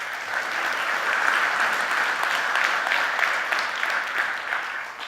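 A conference audience applauds steadily for about five seconds, a dense, even wash of clapping heard from within the room with no voices over it.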